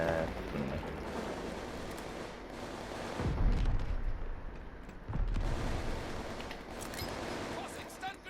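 A grenade blows up in a first-person shooter game, giving two heavy, booming low-end blasts a couple of seconds apart over steady game noise and background chatter.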